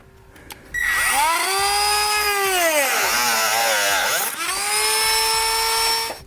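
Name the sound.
Dremel rotary tool cutting thin plastic bumper trim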